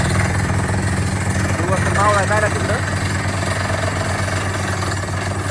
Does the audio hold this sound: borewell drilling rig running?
yes